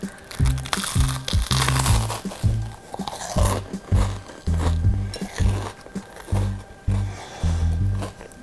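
Close, loud crunching of a crusty potato-stuffed bread roll being chewed, bite after bite in a steady rhythm with no talking.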